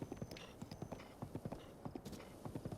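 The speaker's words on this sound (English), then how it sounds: "This horse is also pretty fast." Rapid, rhythmic hoofbeats of a galloping horse in The Legend of Zelda: Breath of the Wild, steady and continuous, over a low background hum with no voices.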